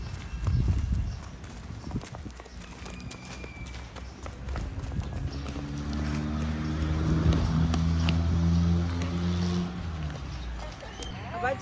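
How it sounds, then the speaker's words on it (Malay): Hooves clip-clop steadily at a walking pace during a horse ride in Perlis, with a running engine humming underneath and people talking over it. "Dah, naik kuda dah"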